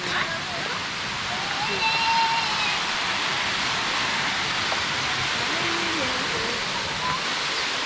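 The waterfall at Curug Bangkong flows at low volume after dry days, a steady broadband rushing wash of falling water, with faint voices audible beneath it.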